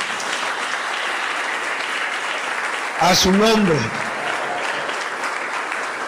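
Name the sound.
congregation applause to the Lord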